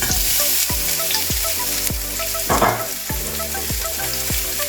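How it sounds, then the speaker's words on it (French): Onions dropped into hot rapeseed oil fry with a loud, steady sizzle, broken by several sharp clatters and a brief burst of spattering partway through, heard close with no voices, while spinach is being cooked. "Nous allons verser notre huile. Nous allons verser nos oignons."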